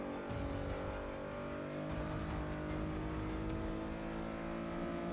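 A Renault Clio V6 in a racing video game howls around the Road America circuit, its engine droning in a sustained high rev with faint tire squeal, loud and close.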